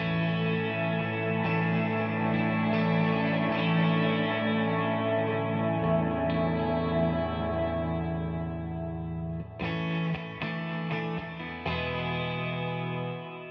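An electric guitar played through an MXR M300 reverb pedal with the reverb eased back via expression pedal, sustained chords ringing with a shorter, gentler wash, several strums and changes across the passage.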